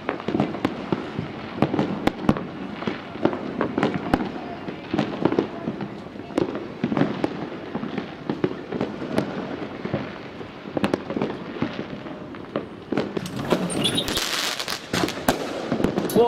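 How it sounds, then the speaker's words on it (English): Fireworks burst over and over across a New Year's Eve night in Ecuador, sharp cracks and bangs close and far in dense, irregular volleys, with faint voices now and then. "It's a firework flying down on my head!"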